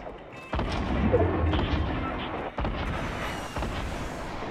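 Gunfire from players shooting each other in a Fortnite Battle Royale match, heard as a few heavy, booming shots at a moderate distance over a continuous din of game noise.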